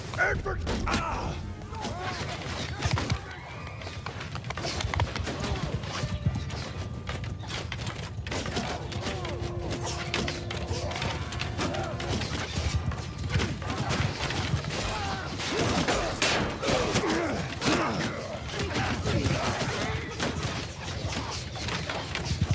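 Horse archers galloping in a medieval battle video game, with a busy, continuous rumble of hoofbeats, thuds and clattering battle noise throughout, fairly close and loud.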